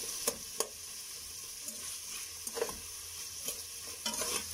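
Onion frying with salt in a pan, a continuous close sizzle broken by occasional clicks and scrapes of a spoon stirring.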